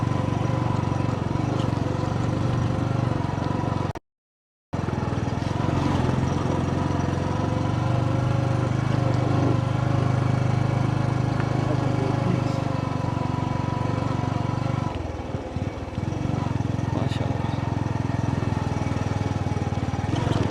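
Motorcycle riding along a rural village road in Uganda, a steady, loud engine drone heard up close throughout, with a brief dropout near the start and a dip in engine tone later on.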